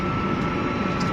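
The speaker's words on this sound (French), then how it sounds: "Le bruit est un peu fort, il n'est pas désagréable puisque c'est un bruit de moteur électrique." Electric motor of a Ligier Pulse 4 microcar driving, a steady, fairly loud whine and rumble heard from inside the cabin, continuous with no pauses.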